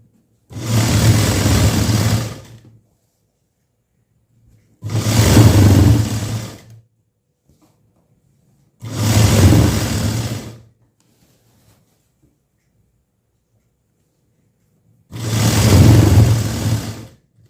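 Sewing machine stitching along the edge of a blouse lining in four loud, steady bursts of about two seconds each, separated by pauses, with no talking.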